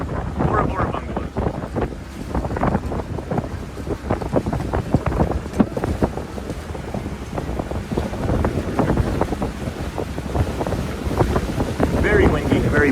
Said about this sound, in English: Very windy, very breezy today.